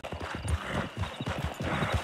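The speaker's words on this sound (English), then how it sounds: "Your horse all right, Nora?" Horse hooves clip-clop in a steady walking rhythm, close and fairly loud, with a rider's setting on a muggy day and no talking over the steps.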